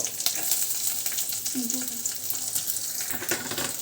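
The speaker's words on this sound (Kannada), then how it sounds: "ಬೆಳ್ಳುಳ್ಳಿ ಪೇಸ್ಟ್ ಮಾಡ್ಕೊಳಕ್ಕೆ ಅಲ್ಲ ಬೆಳ್ಳುಳ್ಳಿ ಹುರ್ಕೋಬೇಕು" Garlic frying in oil for a ridge gourd and snake gourd stir-fry, a steady bright sizzle with intermittent stirring clatter, close up, with a brief voice-like sound partway through.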